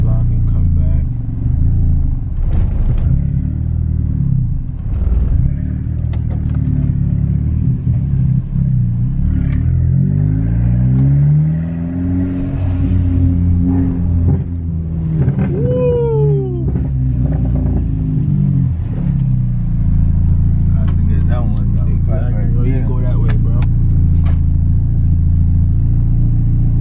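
A stage 3 Volkswagen GTI with a damaged front end rumbles loudly at close range, revving up and down through several swells while driving, with people talking over the engine.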